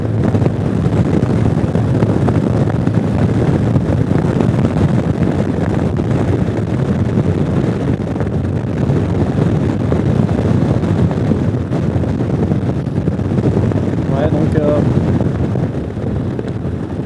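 Constant heavy wind roar buffets the microphone throughout, a dense low rumble from riding a Zontes 368G motorcycle at speed, with a faint voice under it.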